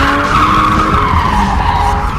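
A BMW M3 stunt car accelerates hard while skidding, its engine roaring loud and close over a continuous tire squeal throughout.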